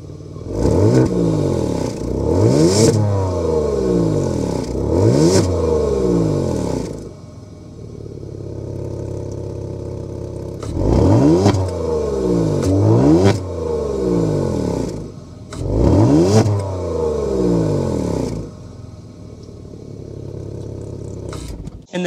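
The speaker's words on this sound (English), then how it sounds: "start it up so you can hear that exhaust note." Kia Stinger GT2 with a 3.3-liter twin-turbo V6 blipped repeatedly from idle, each sharp rev climbing and falling back in quick bursts, separated by calmer idle stretches, loud and close.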